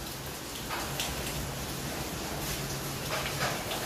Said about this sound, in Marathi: आणि पाऊस पण पडत आहे बाहेर.